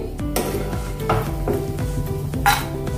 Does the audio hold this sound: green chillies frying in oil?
yes